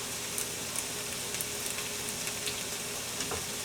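Okra and tomatoes sizzling in a pan, a steady close crackle of frying with small pops scattered throughout and no talking.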